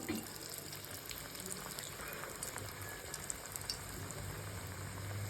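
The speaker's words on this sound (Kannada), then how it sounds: "ಈಗ ಎಣ್ಣೆ ಕಾದಿದೆ, ಒಂದೊಂದೇ ಹಾಕ್ತಾಯಿದ್ದೀನಿ." Chakli dough frying in hot oil, a steady close crackling sizzle that runs unbroken for the whole stretch with no voices over it.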